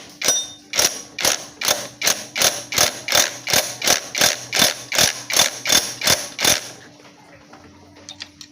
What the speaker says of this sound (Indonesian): untuk mengencangkan baut pair kopling, cukup kita putarkan, kemudian ditekankan ke bagian mangkok ya